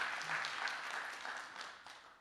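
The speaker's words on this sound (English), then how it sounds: "Can you give them another round of applause?" A conference audience applauds, a dense, fairly faint wash of many hands clapping that fades slowly over two seconds, with no talk over it.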